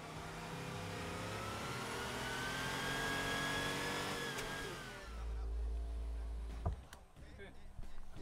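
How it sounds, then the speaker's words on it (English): A recorded Porsche 930 engine from the game Cyberpunk 2077 revs and roars with rising pitch for about five seconds, then cuts off. Someone talks over and after it. "Porsche 930 that we recorded is the only car really that will be really sounding like"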